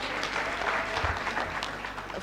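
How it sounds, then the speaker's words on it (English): A crowd claps for faculty at a university freshers' orientation, a dense wash of applause that holds steady and fairly loud for its whole length. "please clap for them."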